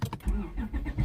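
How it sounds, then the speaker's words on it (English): An Acura TL's engine turns over and catches in a short burst, a low cranking rumble with sharp clicks at the start, heard up close. "I'm going to go ahead and start the car"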